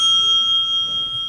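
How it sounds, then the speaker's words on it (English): A steady ringing bell tone sustains for over a second at a televised local candidates' debate, a timer bell sounding alone with no talk over it. "Marie, you have 60 seconds when the bell rings."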